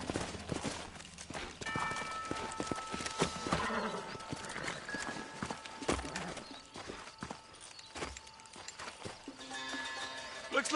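Horses in the Western game Red Dead Redemption clop and shuffle as they are reined in, with hoofbeats, snorts and tack noise over a busy game soundscape with music tones, at moderate loudness.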